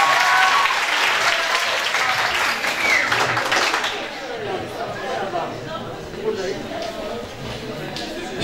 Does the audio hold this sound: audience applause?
yes